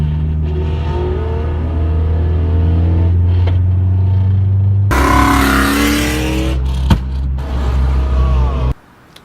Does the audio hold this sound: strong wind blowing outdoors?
no